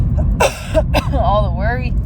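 A few short, rough coughing bursts close by, followed by a wavering vocal sound, all over a constant low hum.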